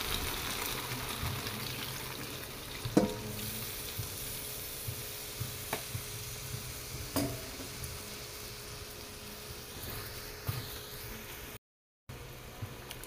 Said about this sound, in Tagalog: Ilagay na po natin ang kakang gata.